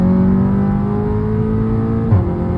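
A Seat Leon Cupra front-wheel-drive car accelerates hard, its engine droning loud and close in a rising tone, with a quick dip like a gear change near the end.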